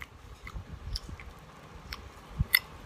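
Quiet, close crunching and chewing of crispy air-fried corn rolls, with scattered crisp bites and a couple of sharper cracks near the end, no talking.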